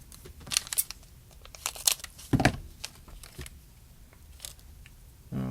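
Scissors snip and cut into crinkly packaging while an electronics kit is unboxed, giving scattered sharp clicks, crunches and rustles in bursts with short pauses, close and moderately loud.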